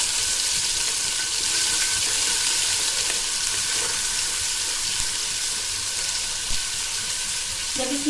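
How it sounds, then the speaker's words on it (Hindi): Ginger garlic paste frying in hot oil for beef paya, a steady close crackling sizzle running throughout with a faint clink near the end. "इसे हम हल्का सा फ्राई करेंगे।"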